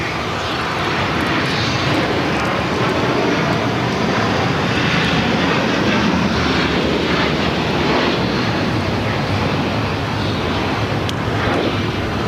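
Sustained roar of a Qatar Airways Airbus A350-1000 jet taking off from runway 25 right at LAX, loud and steady throughout with broadband engine noise and some wind buffeting.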